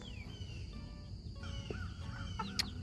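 A hen on a spring homestead clucking softly in a few short, rising and falling calls, with faint bird sounds and a quiet farmyard background.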